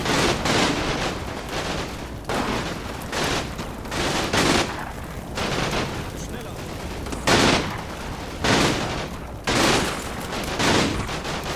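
Artillery barrage in the World War II video game Combat Mission Final Blitzkrieg: heavy, repeated blasts and crackling fire arrive in dense bursts roughly every second or two over a continuous loud rumble, with no talking.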